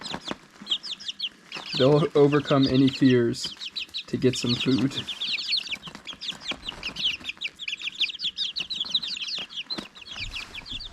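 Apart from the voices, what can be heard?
bantam chickens clucking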